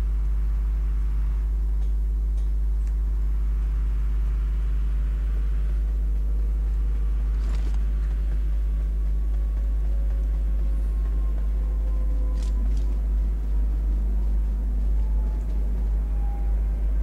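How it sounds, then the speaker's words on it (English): A constant deep car engine rumble in PUBG drones throughout, loud and low, with faint higher whines drifting in and out. "Okay, one car arrived."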